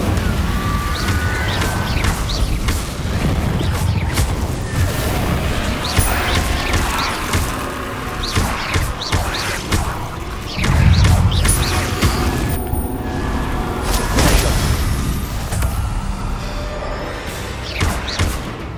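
Fire spells cast in Hogwarts Legacy, a busy run of bursting whooshes and impact thuds that land one after another over a dense, continuous game mix, with a heavier blast about halfway through.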